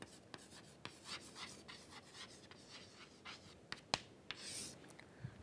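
Chalk or marker writing on a board during a lecture: a run of close, dry scratchy strokes with sharp taps between them, heard alone without talk.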